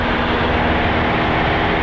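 Steady, loud, continuous drone of a small airplane's propeller engine at full takeoff power during a flying lesson, heard from inside the cabin with no voices over it.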